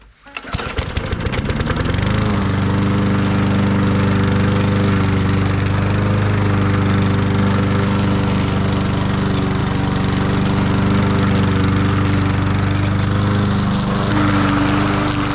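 A cheap gas lawn mower engine sputters through a few rough pulls, then catches and runs at a loud, steady drone close by for the rest of the clip, with a brief change in pitch near the end.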